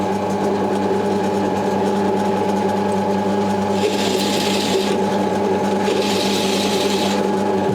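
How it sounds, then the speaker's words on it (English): An old Forstner bit in a drill bores into walnut, giving a steady, close mechanical whine with a rough, grinding edge that swells in two bursts as the bit bites harder into the wood. "I'm going to put the old drill bit on and see what sort of results we get."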